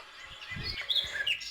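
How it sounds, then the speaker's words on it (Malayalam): Birds sing in a forest on the bank of the Periyar river near Thattekad bird sanctuary, with faint high chirps and whistles over a soft outdoor background and a few low rustles. "ഈ കാട്ടിൽ നിന്നൊക്കെ നല്ല കിളികളുടെ ശബ്ദമാണ്"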